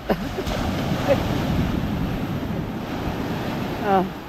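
Sea waves surge and break on a shore in a steady, loud wash with wind buffeting the microphone, a couple of stronger breaks standing out, while people talk and shout faintly nearby.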